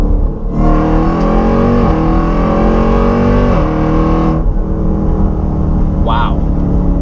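A 1,000 horsepower Jeep Trackhawk engine accelerates hard, loud and close, with rising revs that climb through two or three gear shifts before the roar drops off, a brief whine rising near the end.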